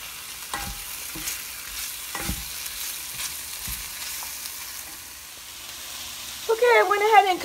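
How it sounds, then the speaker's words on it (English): Chicken sausage fries in olive oil with a low, steady sizzle, broken by several sharp knocks of a utensil against the pan, and a voice begins speaking near the end. "I'm going to put a little bit of olive oil in there and turn the burner on and cut up the sausage and start that first."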